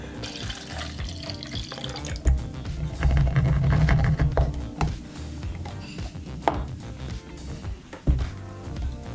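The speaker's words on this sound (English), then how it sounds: "I'm going to transfer the orange juice into the blender." Orange juice pouring and splashing into a blender nearby, with clinks and handling knocks in between; no speech.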